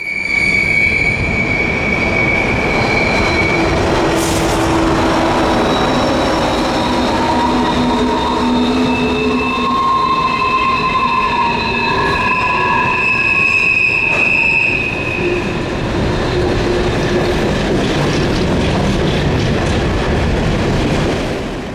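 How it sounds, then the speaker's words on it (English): An eastbound container stack train descends steep mountain track at Bennington Curve, wheels squealing in long high-pitched tones over a constant rumble and clatter of railcars, loud and close. "another eastbound container train was making its way down the steep track."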